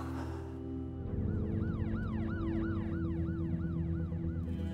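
An ambulance siren wailing in a rising-and-falling yelp pattern at a night street scene in a Korean drama, loud and steady over a low engine rumble with no talk.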